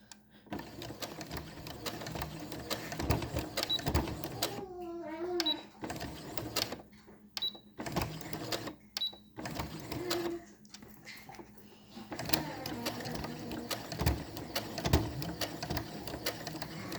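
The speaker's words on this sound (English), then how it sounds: "I'm going to finish sewing there and back stitch" A home sewing machine stitches and back stitches a washable fabric face mask, a rapid mechanical whirring with clicking that stops and restarts as someone talks over it.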